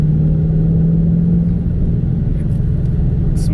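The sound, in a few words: 2022 Roush Mustang manual car driving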